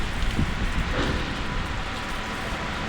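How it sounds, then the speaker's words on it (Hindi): A hard downpour mixed with falling hail makes a thick, steady roar up close, with a few louder rattling impacts early on and no voices. "ओले पड़ रहे हैं"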